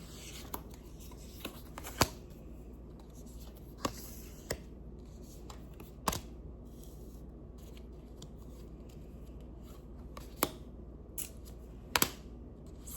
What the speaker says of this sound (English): Let's flip the deck.